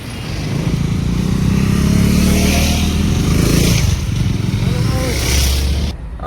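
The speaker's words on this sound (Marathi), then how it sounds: "बाईक पण पहा एकदम स्पोर्ट बाईक" A loud motorcycle engine rumbles and revs close by, holding a strong steady drone before easing off near the end.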